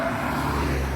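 Steady motor traffic on a road toward an airport in the Faroe Islands, a continuous close engine drone with low rumble, vehicles passing without pause through the whole second.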